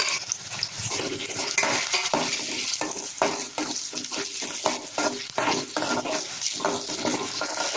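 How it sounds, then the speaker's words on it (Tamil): Onions sautéing in a pan with tomato, green chili and curry leaves, a continuous sizzle broken by repeated scraping and stirring strokes of a spoon against the pan, close up with no voices. "வெங்காயத்தை லேசாக அப்படி வதக்கிக்கோங்க"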